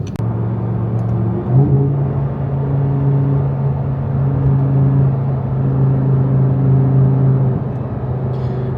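A car drives along a two-lane road with a steady, close engine rumble and a brief shift in pitch early on, continuing evenly with no voices.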